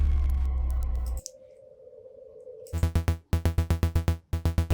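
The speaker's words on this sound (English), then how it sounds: "was that the staccato bass" After a buzzy tone and a short sustained note, a synth bass plays short, punchy staccato notes in a quick rhythmic pattern with brief gaps.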